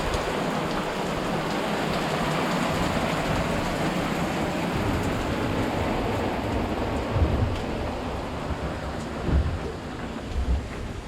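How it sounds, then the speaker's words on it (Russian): Steady rain drums outside a sailing yacht in strong wind on a Caribbean–Colombia regatta crossing, a dense continuous hiss with occasional heavier gusts or low rumbles toward the end, no voices. "Барабанит по улице дождь."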